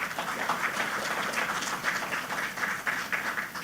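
Applause from an audience at an investment forum fills the room as a steady, dense patter of many clapping hands, moderately distant and sustained.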